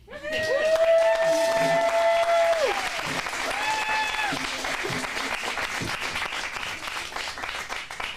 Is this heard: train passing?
no